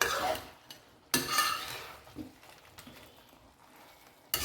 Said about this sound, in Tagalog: haluin natin hanggang sa mag-orange na siya lahat